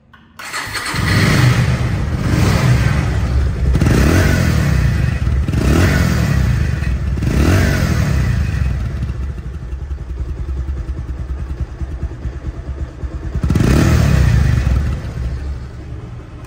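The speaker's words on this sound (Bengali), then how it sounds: "বাইকটির সাউন্ড কোয়ালিটি শোনাবো এখন" A second-hand Bajaj Pulsar DD motorcycle engine runs loud and close, revving in several repeated surges before settling to a steadier idle, then one final rev near the end, with no talking.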